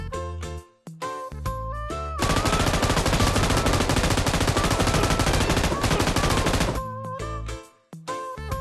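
A Kar98k rifle fires in the PUBG video game, with sharp single shots at the start and end around a dense, loud burst of sustained gunfire and impacts in the middle.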